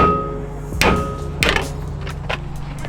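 Two sharp, heavy hammer strikes land about half a second apart, each ringing briefly over a low steady hum, followed by a few lighter taps.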